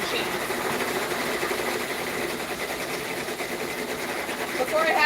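Embroidery machines stitching on orders, a steady rapid mechanical whirring and chatter filling the background while a person talks over it.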